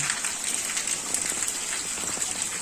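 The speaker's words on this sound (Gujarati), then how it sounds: "વરસાદ" Steady rain falling in a rural village, a dense, even hiss of drops on surfaces that continues unbroken throughout, close and moderately loud with no voices.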